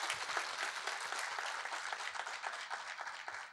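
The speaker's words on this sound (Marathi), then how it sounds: "आपण एक जोरदार टाळ्या वाजवून त्यांचा" An audience at a Pune public transport centre inauguration event applauds for the transport team, with dense, steady clapping from many hands heard at a moderate distance throughout.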